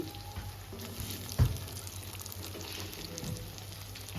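Chicken pieces frying in a pan in home-style cooking, a soft continuous sizzle with a brief louder clatter partway through, no voices.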